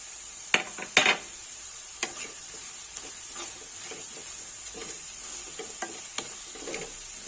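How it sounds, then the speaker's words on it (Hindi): Spices such as coriander and red chili powder being stirred in a pan for chicken gravy, with a few sharp scrapes and taps of the spoon early on, then softer intermittent stirring over a faint sizzle. "मसाले हमारे अच्छे से मिक्स हो गए हैं।"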